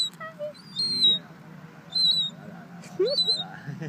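A seagull gives a few sharp, high, squealing calls close by amid people chatting nearby, the bird sounds short and spaced apart.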